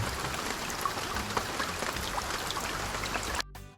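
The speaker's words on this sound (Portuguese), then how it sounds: "ele fica fazendo um barulho alto pra caramba aqui e fica com esses efeitos de gotas de chuva ali o tempo todo" Steady stream of raindrop sound effects from the Nexus Dock app on Windows, a dense patter of small drops with scattered brighter plinks, fairly loud and continuous before cutting off abruptly near the end.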